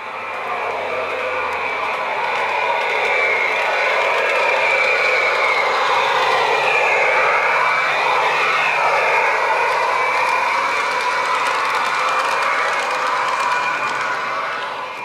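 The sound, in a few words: Rapido APT-E model train gas turbine starting up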